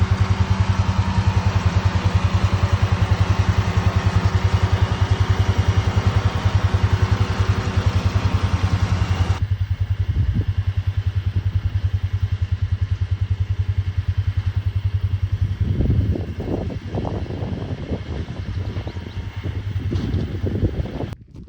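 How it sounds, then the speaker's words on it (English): Tractor pulling a big round hay baler in a hayfield, a loud steady engine drone with rapid pulsing for about nine seconds, then a mechanical rumble with clattering bursts and wind buffeting the microphone. "Bale it with a big round baler is what I use."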